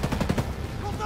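Rapid bursts of automatic gunfire in the video game Ghost Recon Breakpoint, several quick close shots in a tight rhythm, loud and punchy.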